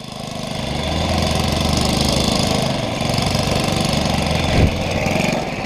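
A moped with a newly installed engine runs near and loud, revving with a steady, knocking putter that swells and dips, and one sharp pop comes near the end.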